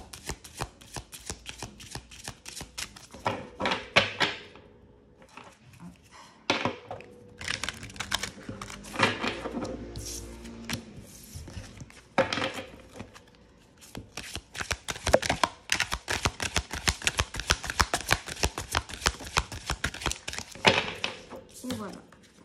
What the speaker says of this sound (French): Alors, je vais le mélanger. On va tirer une carte. Alors, il se mélange super bien.